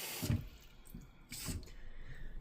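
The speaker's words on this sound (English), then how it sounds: "now we're gonna put in 580 milliliters of water" Water pours from a scoop into a Joseph Joseph M-Cuisine microwave rice cooker holding jasmine rice, two short splashing gushes close by, fairly quiet, with no talk.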